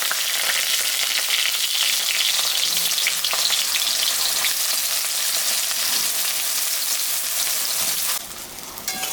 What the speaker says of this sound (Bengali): আমি এখন বেগুনটা হালকা ভাজে নেব।